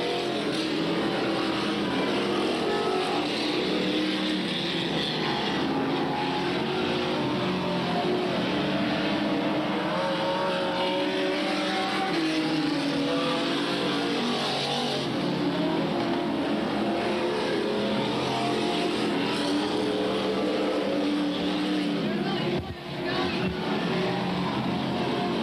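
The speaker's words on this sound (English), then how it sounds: "Ed Carley makes it back out onto the track." Super stock race cars racing on a track at Freedom in 1993, a continuous loud roar of several engines droning and surging together with no break, heard from trackside.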